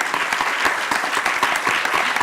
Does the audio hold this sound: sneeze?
no